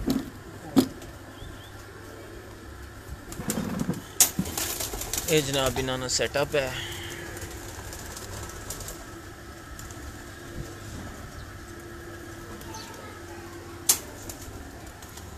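Rooftop pigeons cooing and fluttering, with a burst of wing flaps midway and a few sharp knocks, heard under men chatting nearby in a fairly quiet open setting.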